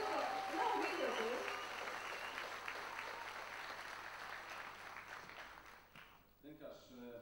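Loud applause fills a school gathering honouring teachers, a dense, steady clapping that fades after about six seconds into a brief voice.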